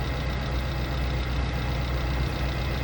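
A Suzuki APV van engine idling steadily up close, with its air-con compressor cycling, a continuous low mechanical hum with rough, knocking texture and no talk.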